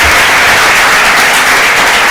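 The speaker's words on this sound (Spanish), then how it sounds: "podríamos darle un aplauso a nuestro conferenciante" Loud, dense applause from a large audience at a lecture, a continuous wash of clapping close by with no talking.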